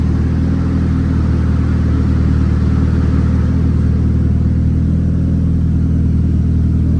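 Boosted Honda Civic engine running on dyno rollers, a loud, sustained deep rumble with steady droning engine tone throughout, close and continuous with no talking.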